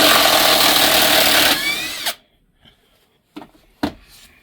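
A ONEVAN 1200Nm cordless impact wrench runs in first speed, a loud close buzzing hammer that cuts off abruptly, followed by a few short sharp knocks and clicks in near silence.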